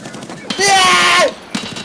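Video game gunfire: a loud, dense burst of rapid shots lasting under a second, with background voices before and after.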